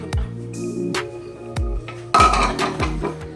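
Thin mint brownie batter gets mixed in a bowl, with a spoon or whisk knocking against the sides in a series of close, sharp clinks and scrapes at an uneven pace.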